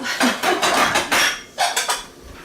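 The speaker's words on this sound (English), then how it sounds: "And I'll get my oatmeal bowls." Oatmeal bowls from a dollar store being taken out and handled in a kitchen, a quick close series of hard clinks and knocks as the bowls touch and are set down, loud and alone.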